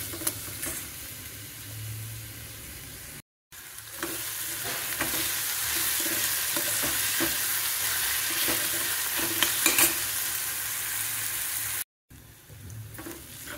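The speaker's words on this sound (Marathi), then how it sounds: "कांदा गुलाबी रंग येईपर्यंत परतवून घ्यायचा आहे." Chopped onions sauté in a hot pan as a spoon stirs them toward pink, a steady broadband sizzle with repeated scraping clicks. Two brief dropouts interrupt it, and no one speaks.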